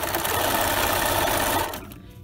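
A sewing machine runs steadily as it stitches around the corner of a port pillow, a loud continuous mechanical whir that cuts off near the end.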